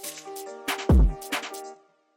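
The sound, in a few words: gunshot sound effect with velocity fading down, drill beat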